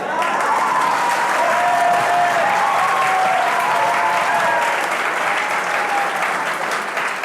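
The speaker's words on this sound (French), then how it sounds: "merci pour votre applaudissement enflammé" Dense, steady applause from a large audience at a live entertainment event, loud and continuous throughout with no break, a full room of clapping blended into a wash of sound.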